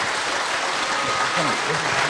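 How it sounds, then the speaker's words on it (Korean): An audience claps steadily for a lecturer at a special lecture event, a dense even wash of applause with a voice faintly audible beneath it. "큰 박수 부탁드리겠습니다"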